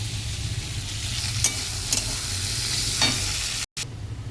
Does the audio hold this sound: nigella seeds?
yes